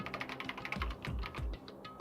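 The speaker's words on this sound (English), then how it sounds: "Kyoko's fingers glided across the keyboard." Rapid keyboard typing in the video game Danganronpa, a steady run of light clicks with a few heavier low thumps, close and clear over about two seconds with no talking.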